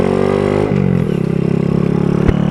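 A nearby motorcycle engine, styled like a small Ducati, runs loudly with a steady throbbing pulse and a brief pitch shift partway through, alone without talk.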